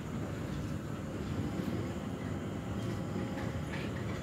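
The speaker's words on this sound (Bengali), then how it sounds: "আমি স্কাই ট্রেনে উঠেছি।" Rumbling, steady rail noise inside the Skytrain people mover at Changi Airport, Singapore, running between Terminal 2 and Terminal 1, a continuous low hum and rattle with no speech.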